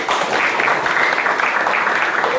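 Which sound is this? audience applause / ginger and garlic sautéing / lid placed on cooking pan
audience applause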